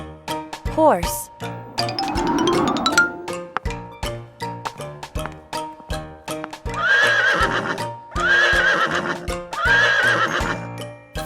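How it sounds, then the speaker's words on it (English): A cartoon horse neighs and whinnies over clip-clopping hooves within a bouncy children's song, with repeated chime and jingle accents; the whinny stands out loudly near the start. "Horse."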